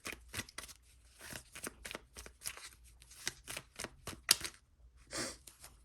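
Tarot cards are shuffled by hand in a string of quick, close riffling snaps and slaps, irregular bursts with short pauses, ending in a softer flutter as several cards spill out.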